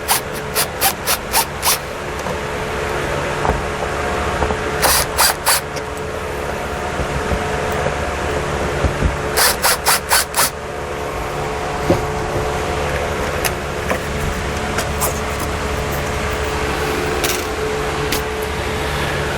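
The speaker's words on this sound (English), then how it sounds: "Remove the screws." Screws are taken out of an old dome light in a 2007 Fleetwood RV: bursts of rapid ratcheting clicks from a driver come in short clusters over a steady background hum.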